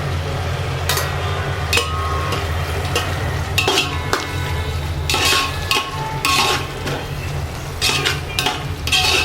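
Tomatoes stirred and fried in a pan for home-made biryani, a steady sizzle with repeated scraping and clinking strokes of a utensil against the pan, close and fairly loud.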